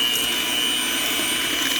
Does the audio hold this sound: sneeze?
no